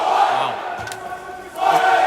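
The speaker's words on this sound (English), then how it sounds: "you can hear the crowd getting into it" Crowd noise at a college dodgeball title game between Michigan State and Grand Valley State, a broad, steady roar of cheering voices that dips briefly in the middle and swells back up.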